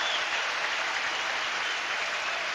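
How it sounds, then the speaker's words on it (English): A tennis crowd at Roland Garros 1995 claps after a long rally in the Chang versus Stich fourth-round match, a dense, steady wash of applause at a moderate level with no voices over it. "And the applause merited the finest rally of today."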